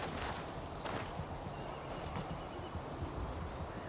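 Horse hooves clip-clopping in the video game Ghost of Yotei, a rapid steady gallop rhythm set against a broad wash of ambient game sound, continuous and fairly close.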